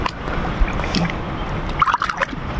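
A duck quacks in a short run of calls near a seaside spot where milkfish are being caught, over steady wind and water noise.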